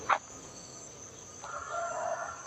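A rooster at a temple in Lampang, Thailand, lets out a single drawn-out crow in a quiet rural setting, following a brief sharp sound near the start.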